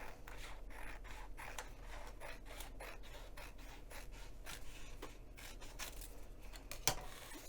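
Scissors snipping along the margin of paper sewing-pattern pages for a crossbody bag, a steady run of quiet, rhythmic cuts and rustles close by over a low hum.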